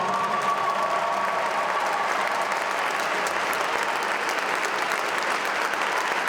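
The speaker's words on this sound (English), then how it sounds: "Now we can applaud." An audience applauds honorees at a 2022 congressional recognition ceremony, dense steady clapping from a large crowd that holds an even level throughout.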